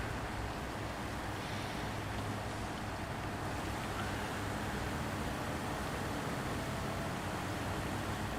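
Truck in the SnowRunner video game churning through dirty water: a steady, dense rumble and sloshing wash that continues without a break and stays loud the whole time, with no voices.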